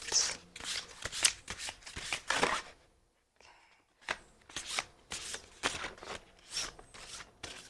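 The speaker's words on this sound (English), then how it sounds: "I will shuffle the deck and see what comes out" Crisp riffling bursts of a card deck being shuffled, repeated in quick rhythmic waves with a brief pause midway, close and clear.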